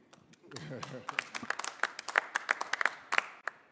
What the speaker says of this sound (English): Clap hands for us